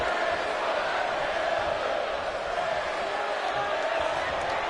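Wrestling video game crowd chanting at Bray during a match against Tommaso Ciampa, a dense, continuous roar of arena voices at steady loudness throughout.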